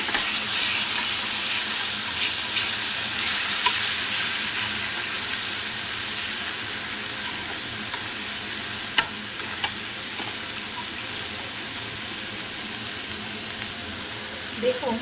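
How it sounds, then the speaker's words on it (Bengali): A spice paste with salt, sugar and a little water fries loudly in a pan, with a dense, continuous sizzle and occasional stirring scrapes, settling slightly softer toward the end. "নুন আর চিনি একটু সামান্য জল দিয়ে, মশলা দেওয়া বাটি সেখান থেকে জল দিয়ে ভালো করে কষিয়ে নেব"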